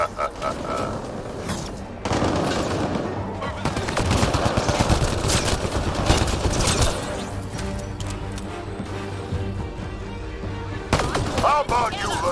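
Rapid gunfire from a Mass Effect: Andromeda firefight, sustained volleys and bursts running nearly throughout with booms and background game music, while voices talk over the shooting.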